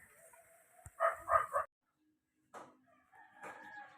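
A native chicken gives a short run of clucks up close under bamboo, followed by a pause and a few softer, scattered bird calls.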